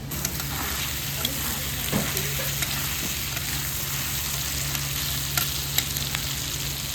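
Food bubbling and sizzling in a pan, a steady close crackle with small pops throughout and no talk over it.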